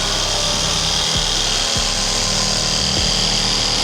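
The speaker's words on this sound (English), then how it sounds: "right now it's time to cut in the holes for the sink" Power saw cutting sink openings into a wooden epoxy river countertop, a steady loud broadband whine with no one speaking and a few brief low thumps as the blade works through the slab.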